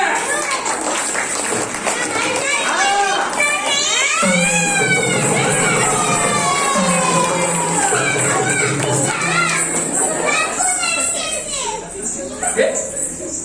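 Crowd noise from the audience at a yakshagana performance, with a dense, loud wash of voices, children shouting and cheering that runs steadily through the whole stretch.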